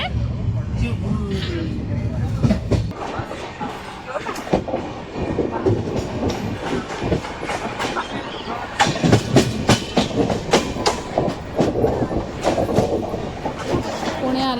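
A passenger train running on rails on the Mumbai to Akkalkot route, a steady loud rumble with rhythmic clatter and rattling throughout, with people talking over it.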